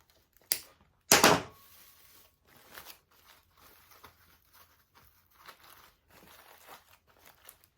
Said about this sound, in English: So I have the pine wrapped around it and I'm using a zip tie.